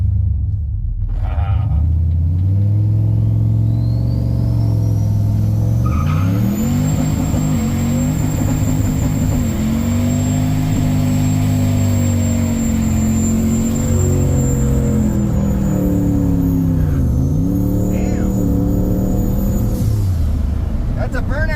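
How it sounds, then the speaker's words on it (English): A turbocharged farm truck does a smoky burnout, its engine held at a loud, sustained high rev for a long stretch, with pitch rising and dipping and tires roaring close by. "That's a burnout, son."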